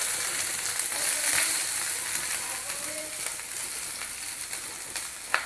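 Onion, carrot and other vegetables hit hot oil in a pan on high heat, raising a steady bright sizzle with a few soft stirring knocks, close and continuous, with faint talk in the background.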